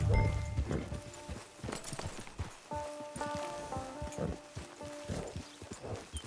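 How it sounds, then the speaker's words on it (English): Horse hooves clip-clop in a steady walking rhythm in the video game Red Dead Redemption 2, with occasional tonal game sounds in the background. "Get your horse."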